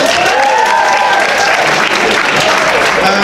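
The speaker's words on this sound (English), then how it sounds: "round of applause for our audience volunteers" Sustained applause from a large audience, steady and dense clapping filling the room with some cheering mixed in.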